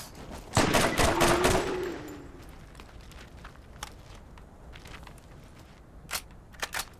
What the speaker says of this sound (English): I mean, you can just keep shooting.